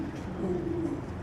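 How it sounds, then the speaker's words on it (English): A great horned owl's recorded hoot plays as a low, steady hooting tone of about a second, fairly close and clear, with no speech over it. "That's the sound of an owl that lives right around us."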